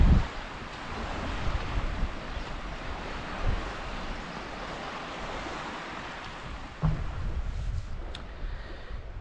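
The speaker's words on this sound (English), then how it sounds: "We have got a bit of a stiff northeasterly. It's quite blowy up on the seawall" Stiff northeasterly wind buffets a seawall on a muddy shore, a steady, loud roar with gusty surges and rumble across the whole clip, no voices.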